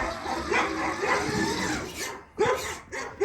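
Dogs barking as a car arrives: a loud run of overlapping barks and yips close by, with breathy, whimpering sounds in between.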